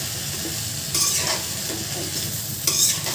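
Vegetables stir-fried plainly in a pan, with a steady hiss of sizzling and two sharper scraping bursts of stirring, close and fairly loud, with no voices.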